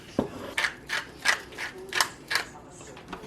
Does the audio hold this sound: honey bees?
no